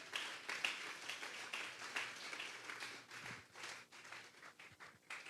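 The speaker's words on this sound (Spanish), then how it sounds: "Denle un fuerte aplauso pues al Señor." A church congregation applauds during a Sunday service, with dense, steady clapping filling the room from start to finish and a few sharper, nearer claps standing out.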